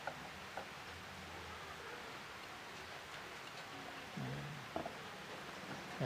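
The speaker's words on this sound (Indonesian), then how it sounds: "Ini kondisi hujan juga." Rain falls steadily as a soft, even hiss throughout, fairly faint and constant, with a few faint low thumps and rustles from nearby handling.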